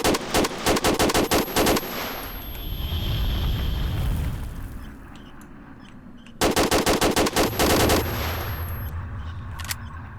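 Rapid automatic gunfire in the video game S.T.A.L.K.E.R. Shadow of Chernobyl with the OGSE mod, in an underground corridor. Two loud bursts of shots come close by, separated by a rumbling, booming lull.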